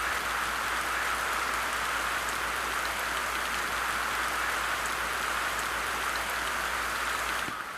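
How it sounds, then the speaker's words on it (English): Steady, dense rain pours on a tropical island, a constant even hiss with no voices for the whole stretch. "It rains nearly every day on this tropical island, but that doesn't slow down the training."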